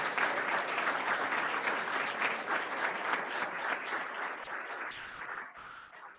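Sustained applause from an audience at the InNOLEvation Challenge finals honouring the participants, dense and steady for about five seconds before thinning out near the end.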